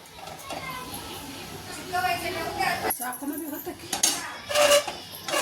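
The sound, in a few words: cutting pieces of chickpea-flour zunka in a plate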